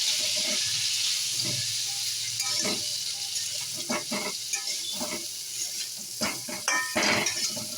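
Drumstick pieces being mixed with salt and turmeric in a pan, with soft sizzling under a run of spoon scrapes and clinks against the metal, irregular and close; no talking.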